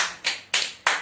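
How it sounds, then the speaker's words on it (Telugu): Three sharp hand claps spaced roughly a quarter second apart, close and fairly loud, each one decaying quickly, applauding the winner of a group game. "గోపి గెలిచినాడు కాబట్టి గోపి అందరు క్లాప్స్ కొట్టండి"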